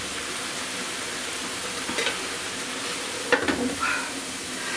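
Steady sizzling and bubbling of cabbage stewing in a pan, with a few clinks of a utensil stirring partway through.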